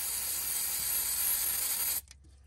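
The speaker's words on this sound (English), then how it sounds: "So the first thing that I'm doing is I'm going to spray some brake cleaner in here," A can of brake cleaner sprays onto a car brake in one loud, continuous hiss lasting about two seconds, then stops abruptly and leaves faint clicks.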